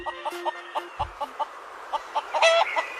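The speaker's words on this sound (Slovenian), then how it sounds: "To so kokoška in njeni piščančki." A farm hen clucks in short, regular bursts among her chicks, close and clear, with a brief louder flurry of clucking near the end.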